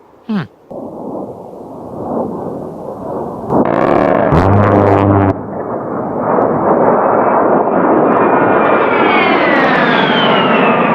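A jet aircraft strafing run, styled as an A-10, builds from a whooshing roar into a burst of rapid cannon fire. The jet then screams past loudly with a rising whine, and no one speaks.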